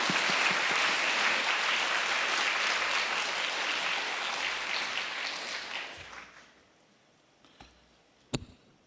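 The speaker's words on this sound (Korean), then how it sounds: "앞으로 나오실 때 큰 박수로 환영해 주시기 바랍니다." A church congregation applauds a guest pastor stepping forward at a Sunday service, steady dense clapping that fades out after about six seconds, leaving near-silence with a couple of faint knocks.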